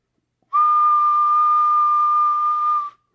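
Whistle audio test on a radio transmitter, measured with a Bird 43P wattmeter and 50 watt element: a single steady, pure whistled tone held for about two and a half seconds, clear and alone.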